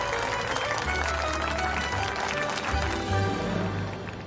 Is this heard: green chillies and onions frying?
no